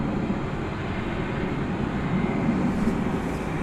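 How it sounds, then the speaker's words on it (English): A Boeing 747 at Dallas/Fort Worth airport at night gives off a steady, broad jet roar that holds at an even loudness throughout, heard from a distance. "A beautiful 747, says Mike D."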